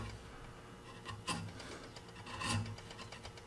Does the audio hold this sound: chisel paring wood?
yes